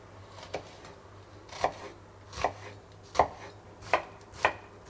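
A knife chops an onion on a cutting board in about eight crisp, evenly spaced strokes, close but fairly quiet against a faint background hum.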